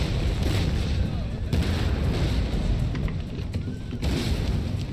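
Cannon artillery fire booms in an Empire Total War battle recreating Rossbach 1757, loud dense rumbling volleys with sharp reports around the first and fourth seconds over continuous battle noise.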